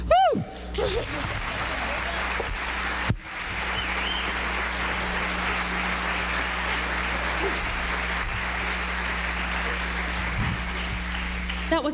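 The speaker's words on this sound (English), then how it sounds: "That was my mom who started the applause." Audience applause at a pageant rolls on as a steady, fairly loud wash of clapping, with a sharp cheer and whistle at the start, a brief dip around the third second, and a voice or two over it.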